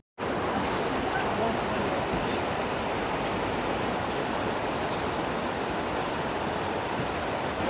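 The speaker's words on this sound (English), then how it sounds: "So this is the big waterfall." A big waterfall in Croatia roars without a break, a dense, steady wash of falling water that is loud and close and fills the whole stretch with no gaps.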